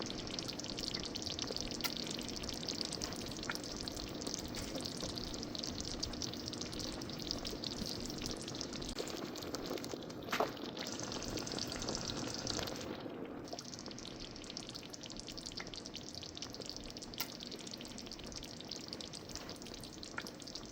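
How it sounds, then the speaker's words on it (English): Roughly blended okra going into boiling okoro soup, with a steady, close bubbling and frying-like sizzle that runs throughout, with a brief wet splash partway through. "we are going to be going in with our roughly blended okra"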